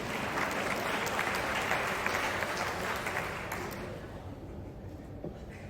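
A student conference audience at Kala Mandir claps, a dense, sustained burst of many hands that holds steady and then tapers off toward the end.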